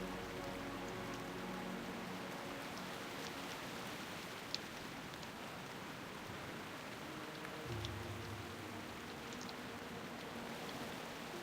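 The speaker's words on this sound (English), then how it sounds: "And as always, it's raining in Elwyn." Steady rain in World of Warcraft's Elwynn Forest, a dense even hiss of falling drops with a few sharper patters, continuous and alone for the whole stretch with a faint low hum beneath.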